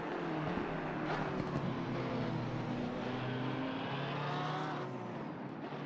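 Race cars battle wheel to wheel in Assetto Corsa Competizione at Barcelona, with Porsche, BMW and AMG machines; a steady, loud wall of engine roar with shifting revs holds throughout, no voices.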